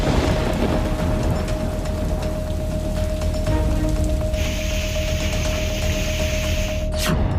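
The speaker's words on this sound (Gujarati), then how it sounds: "કેટલાય વિસ્તારોમાં વરસાદ." Heavy pre-monsoon rain in Gujarat pours down in a steady, dense patter on surfaces, loud and continuous, with a thin tone running throughout and a brief sharp noise near the end.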